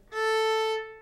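A single bowed violin sound across its top three strings rings out briefly, a sustained chord lasting under a second before fading, with nothing else around it.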